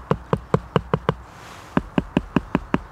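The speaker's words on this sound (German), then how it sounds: "wenn man einfach so dagegen klopft, dann hört er schon locker das Geräusch," Knocking on a half-rotten tree stump full of fatwood (resin-rich pine) outdoors, giving a dull, hollow wooden tock repeated in a steady series of about six knocks, a short pause, then about six more, close and clear with no talk.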